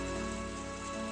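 Cold rain pours steadily in the video game Higurashi, a dense, unbroken hiss that stays loud and even from start to finish, with no voices.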